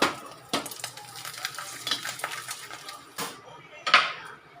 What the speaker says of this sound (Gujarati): આપણે તેલ આવી ગયું છે તો આપણે ભૂંગળા પહેલાં તળી દઈશું